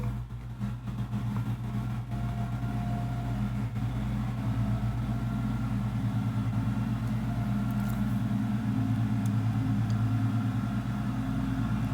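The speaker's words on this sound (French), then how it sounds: "Et regardez ça, putain de tracteur." A tractor rumbles past outside an open window in a French countryside setting, a steady low engine drone that holds loud and continuous throughout with no talking.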